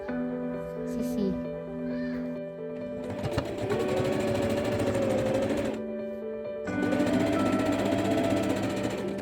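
Sewing machine stitching shoulder and side seams of fabric, bursts of rapid whirring with a rising and falling pitch that start, pause and resume, with someone talking over the opening moments.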